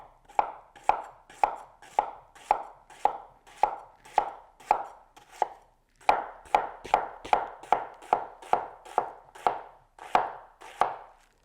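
A Coolina Gator knife chops through an onion on a board in crisp, evenly spaced strokes, about ten in a row, a short pause, then another quick run of chops, close and clear with no talking.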